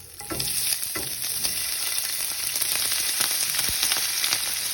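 Diced beef fries in a hot pan with a steady, close sizzle and crackle, punctuated by a few scraping stirs and light knocks.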